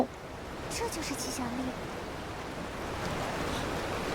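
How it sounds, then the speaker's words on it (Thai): A waterfall in Infinity Nikki gives off a steady broad rush of water, moderately loud, while a few light chime-like game tones ring briefly near the start. "เราข้ามผ่าน น้ำตกนี้ไปแล้ว"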